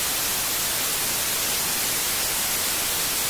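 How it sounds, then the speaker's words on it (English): Steady white noise hiss with widened stereo image, a dense, unbroken wash across the whole range, loud and constant throughout. "So as I play this white noise"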